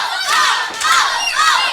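Wrestling crowd at an AMP event roaring and cheering in loud continuous swells, with rising shouts peaking around ringside action and no clear talk over it.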